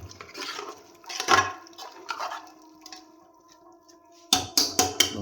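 Mixed vegetables of potato, carrot, peas and cauliflower being stirred into a tempering in a pot, heard as soft scrapes followed by a quick run of four loud metallic clanks of a spoon against the pot, close up.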